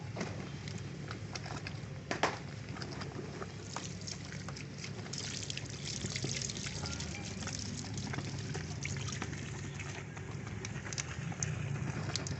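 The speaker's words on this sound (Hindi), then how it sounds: "इसमें हम पानी दोबारा डालेंगे तो ये फिर दोबारा उसी तरह झाग बनाएगा" Water poured steadily into a bowl of homemade detergent powder mixture, a continuous splashing, gurgling rush that stays loud and close throughout with no pauses.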